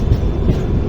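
Karwar Express train pulling into Mangaluru Junction, a steady low rumble of rolling rail wagons that fills the whole short moment, loud and close with no voices.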